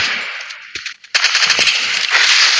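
Rapid automatic gunfire in a mobile shooter game, loud and close, with a brief lull before a fresh dense burst of machine-gun fire continues to the end.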